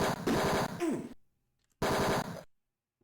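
Two bursts of rapid machine-gun-style gunfire from the 1989 computer game Tex Murphy: Mean Streets, each about a second long and loud, separated by silence, with a short groan-like cry during the first burst.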